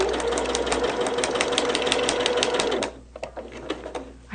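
A sewing machine stitching at a steady, fast whir for about three seconds, then stopping and leaving only a few faint taps and clicks.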